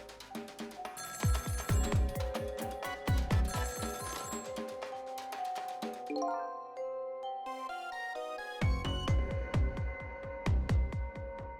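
Repeated electronic telephone ringing from the video game Ghost Trick: Phantom Detective, rapid trilling bursts in two groups separated by a short melodic chime passage, loud and clear with no talking.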